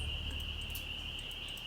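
A single cricket chirps steadily and alone in the video game Nancy Drew: Ghost Dogs of Moon Lake, making a continuous shrill trill that stays at an even, moderate level throughout.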